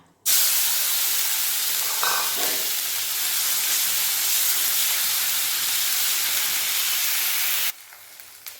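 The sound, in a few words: onion, garlic and dried chilli paste sizzling in hot oil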